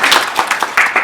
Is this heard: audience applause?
yes